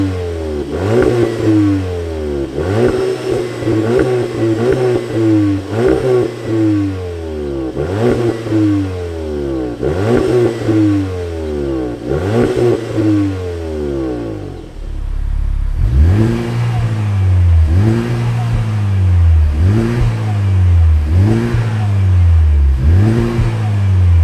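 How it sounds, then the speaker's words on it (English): A VW Golf GTI TCR and a Honda Civic Type R, both four-cylinder hot hatches, rev their engines in repeated rising bursts, loud and close, first one car's series of throttle blips and then the other's, with no talking. "they're 4-cylinder engines at the end of the day, but even so, the Type R really needs more sound"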